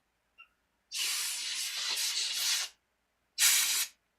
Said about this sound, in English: he's using our air compressor to pop them out